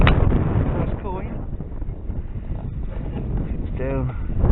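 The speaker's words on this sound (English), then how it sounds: "It's so windy down here." Strong wind buffets the microphone outdoors during a metal-detecting dig, a constant low rumble and roar throughout, with someone talking briefly over it.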